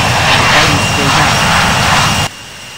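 A jet airliner's engines roar at takeoff power on a runway in the Infinite Flight game, a loud, steady rumble up close that cuts off abruptly near the end, with a voice heard over it.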